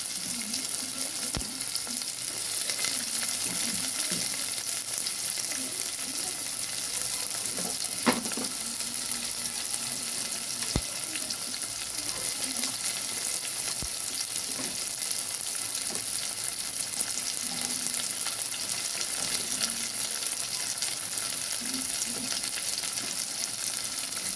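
Three large onions fry in well-heated oil in a home kitchen, a steady dense sizzle and crackle holding at an even level throughout, with faint occasional stirring clicks and no voices.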